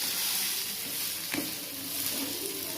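Adai, a lentil pancake, sizzles steadily in oil on a pan, with a continuous close hiss and one brief scrape or clatter near the middle.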